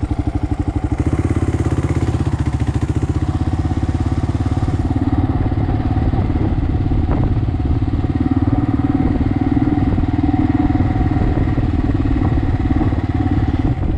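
Motorcycle engine running steadily while riding through Vacaville, California, a continuous mid-range drone with some rattle and wind, loud and close throughout with no speech.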